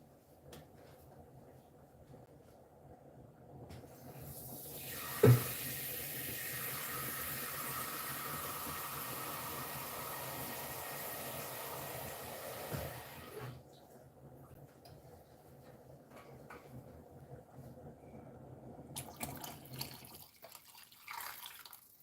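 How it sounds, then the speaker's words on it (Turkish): Water poured into a pot of Turkish noodle soup (erişteli çorba), a steady running splash lasting several seconds, quiet and close, with faint kitchen clatter around it. "Biraz daha su ekleyelim bence"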